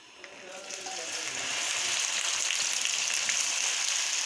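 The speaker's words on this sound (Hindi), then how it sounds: "ऑयल गर्म हो चुका है, मैं इसमें डाल देंगे भिंडियाँ" Okra hisses and crackles as it goes into hot oil and fries, the sizzle swelling within the first second or two and then holding a dense, steady, close hiss.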